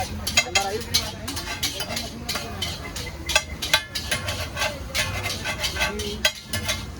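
Egg bhurji stirred and fried in a kadhai, a spatula scraping the metal in quick, repeated strokes over a soft sizzle, with voices talking in the background.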